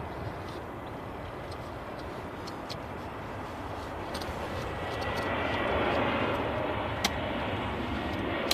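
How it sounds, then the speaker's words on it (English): An Air Transat A321neo landing at Manchester Airport makes a steady, moderately distant jet roar that swells briefly toward the end, with one faint click. "This looks like an Air Transat A321neo coming in from Toronto today."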